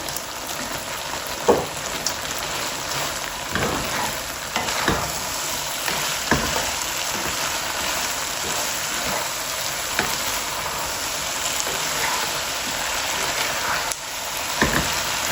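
Chillies and onion frying with fox nuts (makhana) in a pan, a steady close sizzle broken by occasional scrapes and clacks of a spoon stirring, with no one talking.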